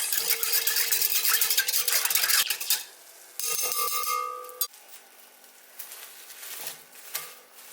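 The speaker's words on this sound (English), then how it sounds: "Give it a good mix." A spoon stirs a mixture of sugar and instant yeast for milk bread dough in a bowl. The scraping and clinking is steady and close at first, then becomes sparser with a few isolated knocks. No one speaks.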